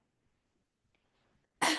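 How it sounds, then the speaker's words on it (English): Single sharp cough from a person with a post-infectious cough, a sudden loud burst at the very end after near silence. "I have a post-infectious cough, but I'm not currently contagious."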